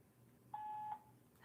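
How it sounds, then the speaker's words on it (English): A phone voicemail system sounds its recording tone: one clean, steady electronic beep of under half a second, alone against quiet line hiss. "At the tone, please record your message."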